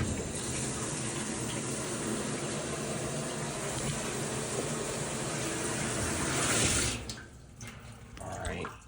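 Rinse water sprays steadily over a plastic fork inside a dishwasher running its rinse cycle, a dense, continuous rushing hiss that cuts off abruptly near the end, leaving brief clatter.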